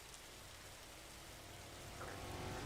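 Rain in a racing video game set at Sebring, a soft, steady hiss of falling drops that swells slightly toward the end, faint and alone with no voices.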